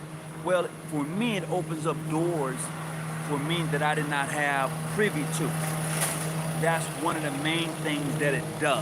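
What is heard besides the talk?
lawnmower running outside during landscaping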